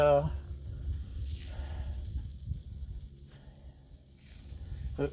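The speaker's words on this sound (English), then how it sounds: "when you're toasting a bun on the griddle, give it a shot" Burger bun toasting face-down on a Blackstone flat-top griddle for a veggie burger, giving a steady low sizzle and crackle that runs throughout.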